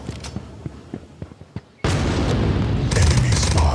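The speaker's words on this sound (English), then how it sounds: "Flashbang." A flashbang grenade goes off in the shooter game Critical Strike: a series of sharp gunfire pops gives way to a sudden loud, sustained roaring burst that fills the rest of the moment.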